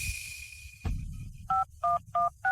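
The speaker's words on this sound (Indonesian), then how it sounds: "Jason, ayo telepon 911." Telephone keypad dialing 911, three distinct two-tone DTMF beeps in steady succession, clear and close after a short stretch of low background noise.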